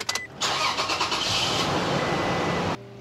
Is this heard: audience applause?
no